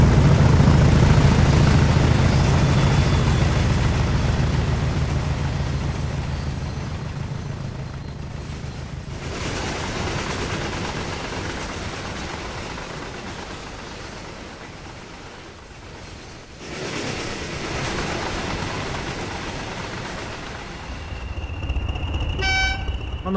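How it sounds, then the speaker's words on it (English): Class 20 locomotives haul a steel train over a crossing, a steady loud rumble of wheels and engines passing close, fading midway then swelling again, with a brief horn-like tone near the end. "Our final shot of the steel train sees the Class 20s heading over a crossing towards Doncaster"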